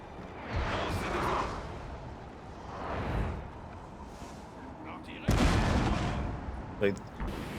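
Artillery fire in the Total War: Napoleon strategy game, with several deep booming volleys spaced a few seconds apart and a louder blast near the end, under continuous talking.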